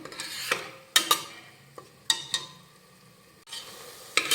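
Tomato puree sautés in oil in a pan as a low sizzle runs underneath, while a spoon scrapes and clinks against the pan in several sharp, close strokes with short quiet gaps between them.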